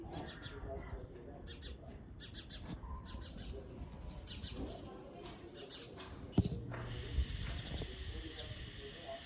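Wild finch chicks chirp in repeated thin, high peeps amid background hiss, with a few louder knocks and voices murmuring near the end.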